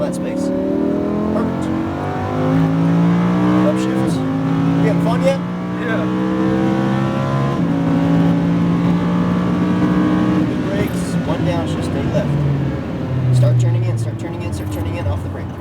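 A Lamborghini Huracan's engine howls at full throttle on a race track, its pitch climbing steadily through the revs in a loud, close cabin roar, with people talking over it.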